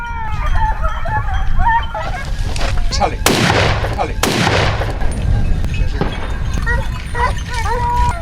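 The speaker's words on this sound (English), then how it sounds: "The first shot rang out, the hunt officially began." Two loud gunshots crack close together during a wild boar hunt, each a sharp blast with a fading tail, while honking goose-like animal cries and vocal sounds continue around them.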